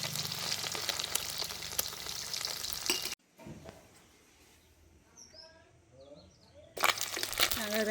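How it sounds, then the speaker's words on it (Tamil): Meat frying in hot oil in a village kitchen, loud dense sizzling and crackling that drops out for a few seconds, leaving faint birdsong, then returns at full strength. "எண்ணெயெல்லாம் நல்லா கொதிச்சுட்டு நான் இறைச்சியை போட்டு பொரிச்செடுக்க போகிறேன்"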